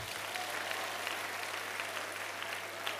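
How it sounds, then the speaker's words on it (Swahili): A church congregation claps hands continuously in praise, a dense, even roll of applause at a moderate distance with a low steady hum underneath. "Shangilia Bwana kwa makofi."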